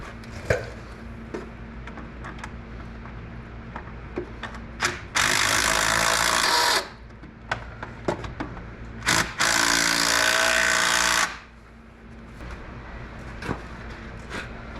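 An impact wrench works on a tie rod of a yard truck fitted with a snow plow, firing in two loud sustained bursts, about two seconds each, with quieter clanks and shop noise between them.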